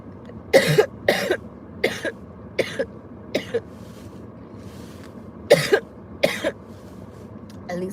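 A woman who feels unwell coughs repeatedly in short clusters, eight or so harsh bursts with pauses between, close to the microphone with a quiet background.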